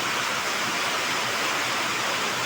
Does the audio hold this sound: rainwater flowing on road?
yes